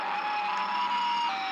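Sustained siren-like drone from the Roblox Siren Head game, steady and loud with a constant pitched tone throughout, no talking.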